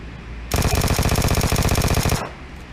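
Vector submachine gun in PUBG Mobile firing one continuous full-auto burst of rapid, evenly spaced shots, loud and close, lasting about a second and a half before cutting off.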